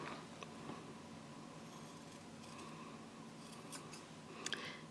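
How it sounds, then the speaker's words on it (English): Scissors snip the corners of a sewn fabric key fob card pouch, a few soft, crisp cuts spaced through a quiet room, close and alone with no talking. "you want to clip off some of these corners"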